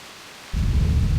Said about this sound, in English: one day, a terrible storm beset the village.